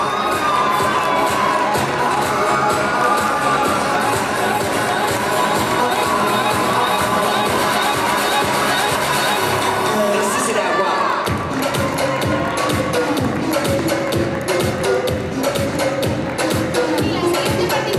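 A crowd at a Japan Weekend cosplay catwalk in Valencia applauds and cheers for a Maleficent cosplayer, a loud, dense wash of clapping and shouting that shifts partway through, with an announcer's voice mixed in.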